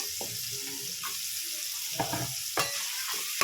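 Beans and carrots frying in oil in a pan for fried rice, a soft steady sizzle with a few sharper stirring scrapes and clatters, fairly close and with no talking.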